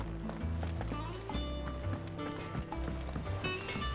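Horse hooves clip-clop in a steady trotting rhythm in Final Fantasy XVI, over a busy backdrop of game music and ambient sound, with no one speaking.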